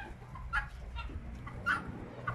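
Bantam chickens cluck in short, scattered calls at close range, a few sharp clucks spaced about half a second apart over a low rumbling background.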